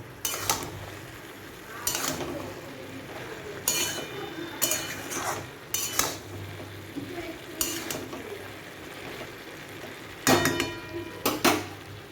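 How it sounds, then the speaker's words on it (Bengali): A spoon or spatula stirs poppy seed and green chilli paste into pumpkin stems in a pan, with repeated scraping, clinking strokes over a low, steady sizzle, close and without speech. "এই পোস্ত আর কাঁচা লঙ্কা বাটাটা দিয়ে দেবো। এটাকে একটু ভালো করে মিশিয়ে নেব।"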